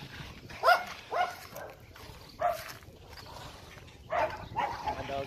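A dog barks several times in short, irregular bursts, somewhat distant, over a faint rustling background with a voice briefly audible.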